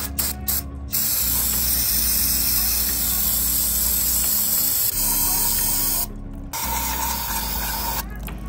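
Brake cleaner sprays in long pressurized hissing bursts into the oil filter housing of a 2018-2021 Jeep Wrangler 3.6L, close and loud, with brief pauses between blasts and a mechanical rattle underneath.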